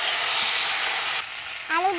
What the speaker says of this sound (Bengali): দিয়ে দেব পাঁচফোড়ন, তেজপাতা দিয়ে দিয়েছি, আর এই যে শুকনো লঙ্কা